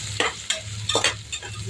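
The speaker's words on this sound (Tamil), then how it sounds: "இது நல்ல பொன்னிறமா வதக்கிக்கணும்." Ingredients for kuska rice sautéing in a pan until golden, with a steady low sizzle and periodic scraping stirs about every half second, close and alone with no voices.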